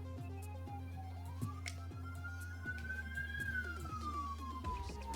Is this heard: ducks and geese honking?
no